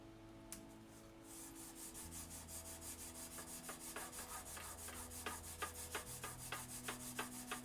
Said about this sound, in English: As I sand away.